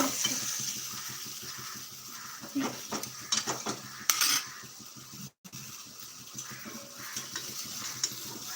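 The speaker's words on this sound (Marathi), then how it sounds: "छानपैकी मिक्स करून घ्यायचं आहे आपल्याला" Steady scraping and stirring in a pan with a soft sizzle underneath, regular utensil strokes close by, no voices.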